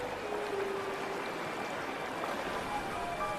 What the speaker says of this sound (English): The tiny runoff stream that feeds the Willow Pond swells into a raging river.